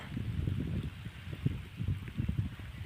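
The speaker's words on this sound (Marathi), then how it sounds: "आता ठिबक नळावर पाऊस पड राहिला आहे पाऊस चालू झाला" Rain patters steadily onto drip irrigation pipes in a farm field, a soft close drumming of drops in uneven bursts, with no voices.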